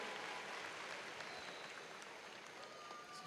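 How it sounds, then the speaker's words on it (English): A commencement ceremony audience applauds for the mothers present on Mother's Day weekend, a broad, sustained roar of many hands clapping in a large hall, fairly distant and even. "How about a round of applause for all the mothers that are here on the Mother's Day weekend?"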